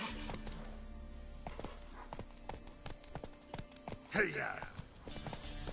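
Roach the horse's hooves clip-clop in a steady trotting rhythm in The Witcher 3, with a rider's shout and a brief voice partway through and game ambience beneath.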